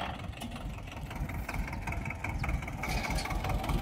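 A tractor engine idles steadily on a farm where watermelons are being loaded, a continuous low rumble with a few faint rattles, fairly loud and unbroken throughout.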